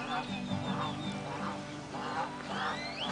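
Several ducks quack in irregular bursts over a steady background hum during an outdoor song performance, fairly close and moderately loud, with faint voices mixed in.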